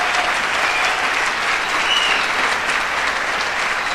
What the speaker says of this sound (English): Can I have a round of applause for Deborah